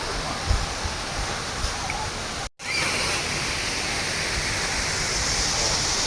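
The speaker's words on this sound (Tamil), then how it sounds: "சிற்றருவி வந்திருக்கோம்" Chitraruvi waterfall at Courtallam roars as a steady, dense rush of falling water, broad and unbroken apart from a momentary cut, loud and enveloping from nearby.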